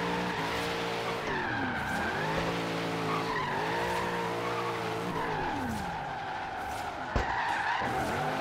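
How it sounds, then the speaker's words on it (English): Forza Horizon 3 car drifting through city streets on a long e-brake pull, with a steady, loud tire skid and squeal over a revving engine whose pitch sweeps up and down through the slide, ending in a sharp thump. "That was a really long e-brake pull."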